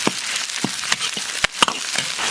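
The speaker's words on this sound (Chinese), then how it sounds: "锅里倒点油，油后下入泡好的干辣椒、花椒，炒出香味以后下入葱姜" Dried chilies, Sichuan peppercorns, scallion and ginger stir-fry in hot oil in a wok, giving a soft, steady sizzle broken by sharp spatula scrapes and crackles, fairly quiet and with no talk.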